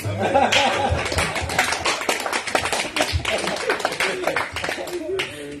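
Church congregation clapping and cheering at a Sunday service, a dense run of applause mixed with scattered voices and laughter, fairly close and steady throughout.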